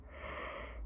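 A man yawns once in a quiet indoor room, a drawn-out breathy exhalation of just under a second at moderate volume with no talk over it.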